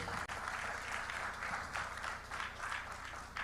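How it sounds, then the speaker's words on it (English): An audience at a journalism innovation live-streamed event applauds a speaker, a steady wash of clapping that sounds somewhat distant and thin, continuing evenly for several seconds with no talking. "Please a round of applause for David."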